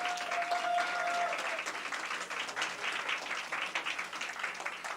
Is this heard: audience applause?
yes